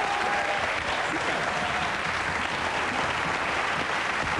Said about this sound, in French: Et on peut vraiment les applaudir.